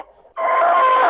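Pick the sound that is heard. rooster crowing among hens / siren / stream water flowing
rooster crowing among hens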